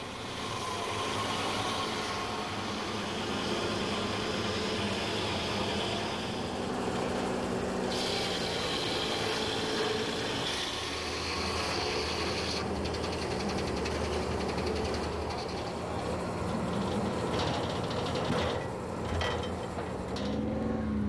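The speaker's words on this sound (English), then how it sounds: "This carbide-tipped circular saw turns the log into a square timber." A carbide-tipped circular saw cuts a reclaimed redwood trestle log into square timber, giving a loud, steady, broadband mechanical roar and whine that runs without a break from start to finish, with no voices.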